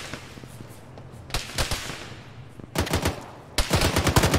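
Machine gun fire in the military game Arma starts as a distant rattle, then comes in louder, closer bursts of rapid shots that build toward a sustained stream at the end.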